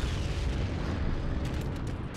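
A bomb going off in the World War II shooter Heroes and Generals, a dense sustained rumbling roar of explosion and battle noise with a few crackling bursts near the end.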